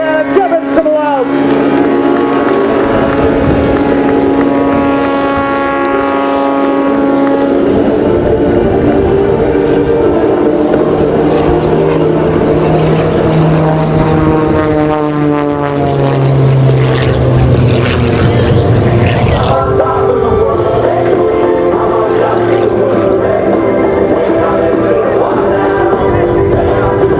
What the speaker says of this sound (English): let's watch Rob Holland slow the airplane down. 370 horsepower, hanging it on the prop.